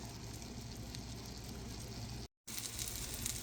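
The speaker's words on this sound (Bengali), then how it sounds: "ডিমটা ভাজা হয়ে গেছে এখন নামিয়ে নেব" A steady, faint sizzle of eggs frying in a pan, an even crackling hiss with a brief gap of silence partway through.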